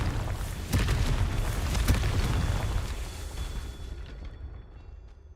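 A Confringo blasting spell explodes in a Harry Potter-style wizard video game, a broad rumbling boom with a couple of sharp cracks that rolls on and fades out over several seconds.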